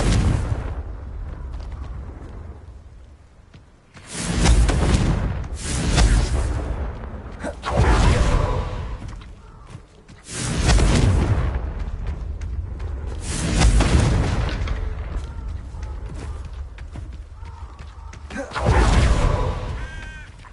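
Repeated fiery spell blasts from the fantasy video game Hogwarts Legacy: five or six loud, broad booming bursts spaced a few seconds apart, each swelling and fading, with whooshing effects between them and no talk.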